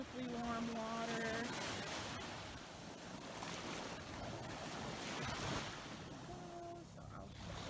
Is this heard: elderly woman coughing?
no